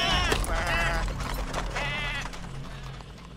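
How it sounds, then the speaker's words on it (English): Two goats hitched to a cart bleat in wavering cries, close and loud, over a low rumble with faint mechanical clatter between the calls. "Two fine goats to draw my cart."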